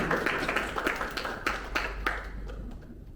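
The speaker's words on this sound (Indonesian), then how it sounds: "Kita beri tepuk tangan yang meriah untuk kelima Capansel terpilih MNC University." Audience at a public hearing for selection committee candidates at MNC University claps for the five chosen candidates. A handful of distinct, fairly close claps sound in an uneven rhythm, then fade out toward the end.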